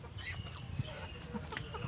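Chickens cluck faintly on a farm, with a few soft, scattered low clucks over quiet outdoor background noise in a brief moment.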